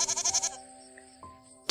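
Goat bleating in a farm setting: one quick, wavering, pulsing bleat up close, followed by a faint lingering tone and a brief click.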